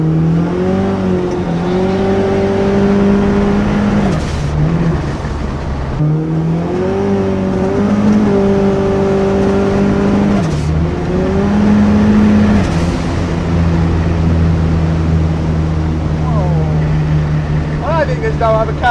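A turbocharged all-wheel-drive SR20 race car laps a nearly empty Sydney Motorsport Park, engine loud and close with repeated revving rises and gear changes, while people talk over the noise.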